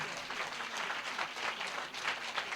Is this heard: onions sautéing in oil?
no